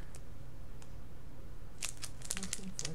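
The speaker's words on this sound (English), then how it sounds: "It's the fun of opening the packs." A baseball card hobby pack wrapper crinkles and tears open up close, a cluster of crisp crackling bursts coming late after quieter handling, with no one talking.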